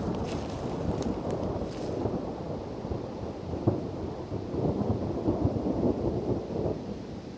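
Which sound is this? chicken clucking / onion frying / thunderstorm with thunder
thunderstorm with thunder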